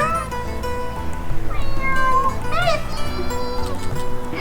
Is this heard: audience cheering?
no